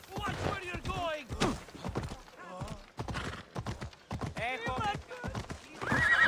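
Horse hooves clip-clop in a steady rhythm with a horse whinnying, while several voices talk over it, in the video game Assassin's Creed Odyssey.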